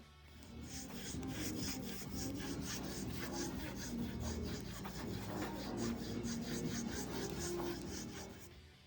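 Microfiber cloth rubbing and polishing the journals of a 5.3L Vortec crankshaft during restoration, a steady close-up scrubbing rasp with rhythmic back-and-forth strokes throughout.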